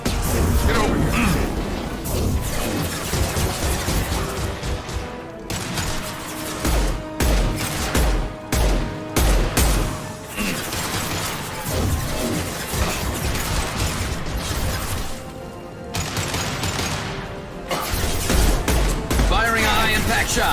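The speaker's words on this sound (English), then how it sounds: "Firing a high-impact shot." Gunfire and combat in the video game Mass Effect 2 Legendary Edition, dense bursts of shots and booming impacts recurring throughout, loud and close, mixed with in-game shouted voices and mechanical clatter.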